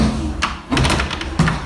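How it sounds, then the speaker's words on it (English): Segway bumping against an indoor door, giving three dull thuds and taps with a short rattle, close by and moderately loud. "I hate using Segway through this door because I always got stuck"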